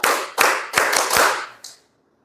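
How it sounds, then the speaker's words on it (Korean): A group claps hands in a quick burst of five sharp, close claps, the last one softer, followed by silence in a healing and wellness workshop. "박수 5번 시작"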